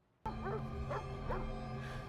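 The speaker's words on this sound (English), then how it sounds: "A dog barking at something in the dark?" A dog barks in the dark in a movie scene, a few quick yelping barks over a sustained low background drone, the barks sitting close and moderately loud.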